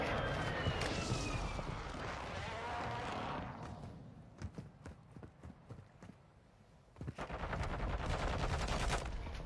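Rapid gunfire crackles in a first-person shooter game, with bursts of shots and sharp single cracks under dense game noise, close and fairly loud, with no clear talk.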